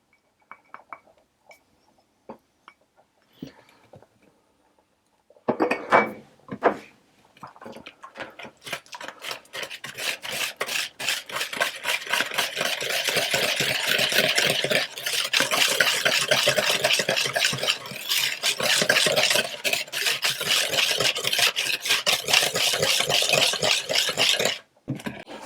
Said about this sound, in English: So I'm going to put my cream in, and I'm going to whisk that into it.